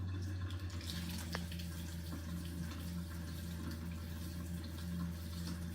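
A reverse osmosis water system flushes under a kitchen sink, making a steady low hum and a constant rush of running water, with faint intermittent clicks and no voices.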